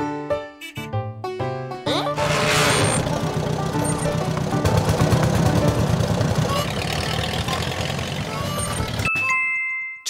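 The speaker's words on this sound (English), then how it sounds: "moped" Moped engine starting up after a few chime notes, then running with a buzzing, uneven idle and revs for several seconds before cutting off to another chime.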